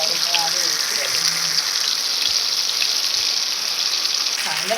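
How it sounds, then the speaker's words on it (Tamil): Sankara fish frying in hot oil, giving a steady, dense sizzle that holds throughout with faint bubbling crackles, close and continuous, with no talking. "மீன் வறுவலுக்கு மசாலா போட்டாச்சு. மீன் வறுத்துக்கலாம்."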